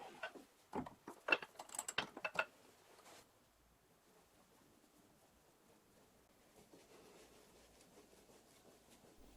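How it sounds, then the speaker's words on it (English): Removing the chuck from a lathe: a quick run of sharp metallic clanks and ratcheting knocks fills the first few seconds, then gives way to a faint, steady workshop hum. "Now I need to remove the chuck so I can set up my reference bar"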